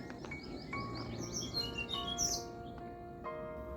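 Several birds chirp and squawk in quick, overlapping calls on a farm in Vasai in the morning, fairly close and clear over a quiet background.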